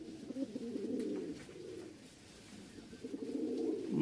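A pair of high-flying Teddy pigeons, male and female, coo steadily in low throaty rolling bursts, close by with no talk over them.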